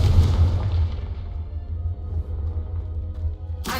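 A Confringo spell explosion in Hogwarts Legacy, a deep booming blast that rumbles and decays over a few seconds, followed by a sharp new burst at the end.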